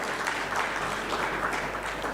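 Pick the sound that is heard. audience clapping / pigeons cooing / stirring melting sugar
audience clapping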